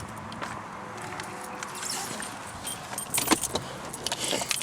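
Keys jingle and rattle near the ignition of a Toyota Corolla XRS, followed by the car being started, with clicks and brief mechanical bursts rising toward the end.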